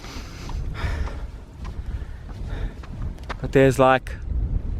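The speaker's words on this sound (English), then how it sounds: "As I said that, the wind picked up." Wind gusting outdoors, rumbling and buffeting against the microphone in uneven surges while a person speaks over it.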